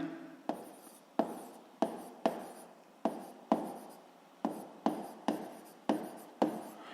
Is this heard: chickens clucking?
no